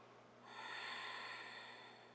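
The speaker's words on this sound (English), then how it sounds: "contracting the throat as you exhale through the nose." Ujjayi breath exhaled through the nose with the throat gently constricted, a soft ocean-like rushing hiss that swells and then slowly fades, heard alone and close.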